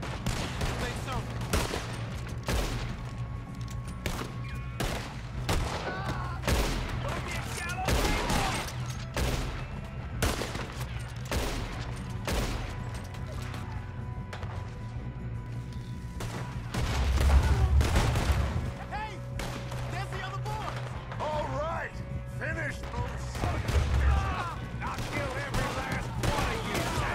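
Gunfire in Red Dead Redemption 2, steady rapid shots and crackling volleys running throughout with a couple of heavier booms, over a continuous low game rumble.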